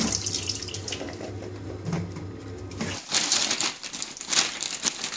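A kitchen tap runs while chopped potatoes are washed, a close water stream with splashing and crinkling rustles as the pieces are handled, louder and more splattery in the second half.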